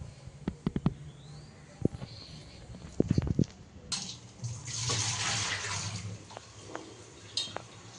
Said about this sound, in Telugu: మా మమ్మీ నీళ్ళు తోడుతుంది పిల్లల స్నానానికి